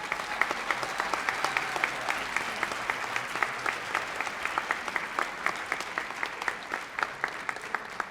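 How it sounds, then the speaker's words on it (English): An audience at a high school academic awards event gives teachers a round of applause, dense sustained clapping from a sizable crowd throughout. "Would you give these teachers a round of applause"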